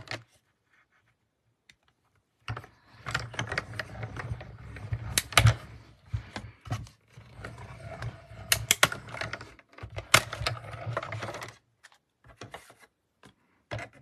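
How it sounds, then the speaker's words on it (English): Die cutting machine cutting a paper stamp shape, heard as a stretch of close mechanical clicking, ratcheting and rolling clatter with sharp snaps, starting after a quiet pause and continuing in uneven bursts. "And I will die cut that as well."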